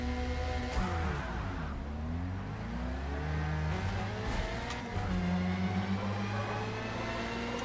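Formula Mazda race cars launch from the start in Forza Motorsport, several engines revving and rising through the gears together in a dense, continuous whine with occasional tire squeal, no talking.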